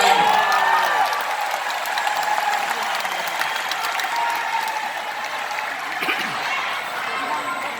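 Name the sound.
audience applause at political speech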